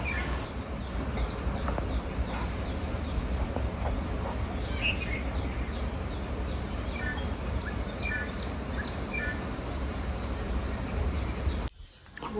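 Morning countryside outside a window, a loud steady high drone of crickets or insects fills the air while a few birds chirp faintly in short scattered calls behind it, with no talk.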